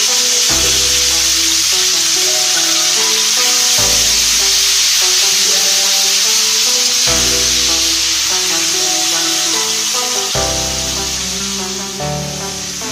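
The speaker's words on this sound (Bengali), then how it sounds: "এবার এর মধ্যে প্রথমে আমি পেঁয়াজ বাটা।" Onion paste frying in a pan for prawn malai curry, a loud, close, continuous sizzle and hiss that holds steady throughout, with no voices.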